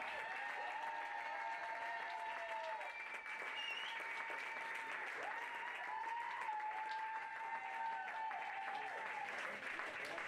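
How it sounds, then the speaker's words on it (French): Applause from an audience at a pony-games prize ceremony, a steady wash of clapping that runs the full length, fairly quiet and distant, with a tonal hum or music line sustained underneath. "Mesdames et messieurs, on les applaudit."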